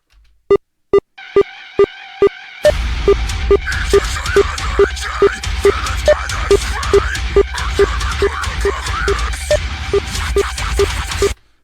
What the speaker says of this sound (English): We're going to turn that metronome up drastically so you can hear what I'm talking about.